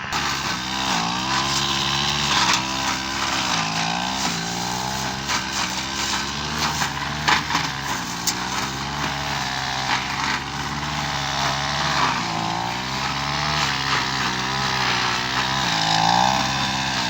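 A grass cutter drones steadily and loudly in a calamansi orchard, its small engine wavering slightly in pitch as it works continuously throughout.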